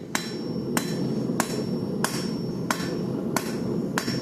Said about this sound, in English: I'm hitting more like back into my work like this. That way you get a short, stubby taper.